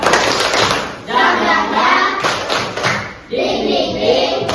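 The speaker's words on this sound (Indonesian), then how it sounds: "Kita tepuk semangat sekali lagi" A classroom of students performs the rhythmic 'tepuk semangat' spirit clap, sharp, dense claps and thumps landing in quick patterned bursts, with voices chanting and talking over them throughout.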